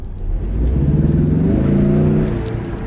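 Engine of a 2022 Ford Mustang convertible revving up briefly, a close, loud burst that climbs in pitch, holds for a second or so, then eases off.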